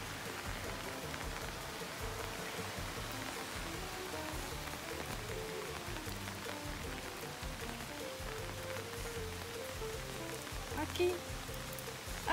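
Steady rain falls on surfaces outdoors during a walk with an Akita and a Yorkshire terrier in Japan, a continuous close patter with faint splashes throughout.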